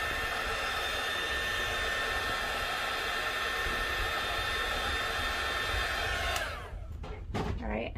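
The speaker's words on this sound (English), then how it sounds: "I'm going to use my heat gun here to help it dry" A heat gun blows steadily and loudly while drying paint on a beach bag, a constant airy roar that cuts off near the end and leaves faint handling noise.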